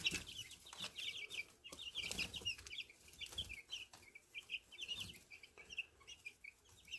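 Young chicks cheep in a busy, high-pitched chorus while pecking at a treat, with soft clucks and scratching underneath, heard fairly close but quietly and with no talking.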